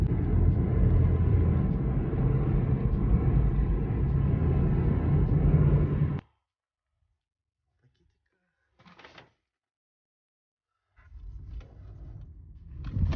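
A car driving through winter streets on a food delivery run, a steady loud rumbling engine and road noise for several seconds that cuts off abruptly, followed by silence, a few brief knocks and then renewed rumbling.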